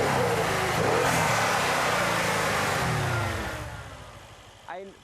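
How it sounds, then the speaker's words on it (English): A Mercedes-AMG C63 S with a 4-liter twin-turbo V8 roars under hard acceleration, its loud engine note climbing then easing off, followed by a short sharp rev blip at the end. "It's a 4-liter V8 twin-turbocharged gasoline engine in the AMG C63 S model."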